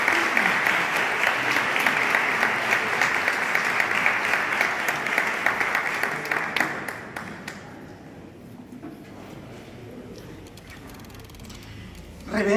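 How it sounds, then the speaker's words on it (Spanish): An audience at a Christmas proclamation event in Zarandona breaks into loud, sustained clapping for about seven seconds, then it fades to a quiet room with scattered sounds. "Solicito un fuerte aplauso para él."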